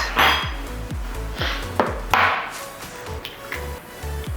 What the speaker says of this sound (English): I'm going to crack 2 eggs